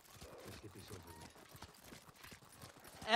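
Horse hooves clop at a steady trotting rhythm in Ghost of Tsushima, fairly quiet, with faint voices and game sounds in the background.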